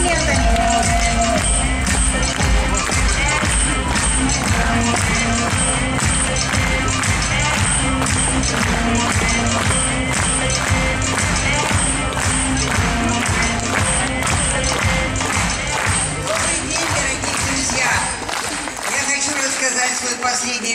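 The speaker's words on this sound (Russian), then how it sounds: "Встречайте аплодисментами." A hall audience at a company event applauds a woman coming onto the stage. Dense, steady clapping fills the whole stretch at an even level.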